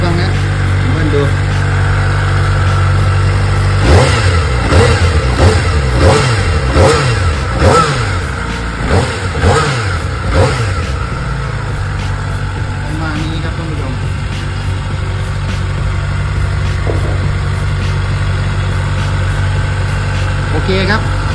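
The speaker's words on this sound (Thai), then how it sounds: "เดี๋ยวลองมาเบิ้ลกันฟังนะเบิ้ลดู" A new Kawasaki ZX-4R four-cylinder motorcycle is blipped repeatedly from idle, with about eight quick, loud revs rising and falling in a rapid series before settling back to a steady, close idle.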